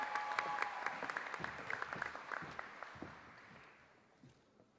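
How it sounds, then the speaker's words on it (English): An audience claps at a student senior showcase: distinct, fairly distant hand claps form a modest round of applause that gradually dies away. "You could clap now."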